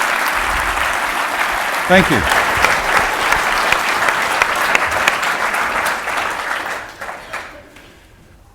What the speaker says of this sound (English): Please, a round of applause for the Blue Economy cohort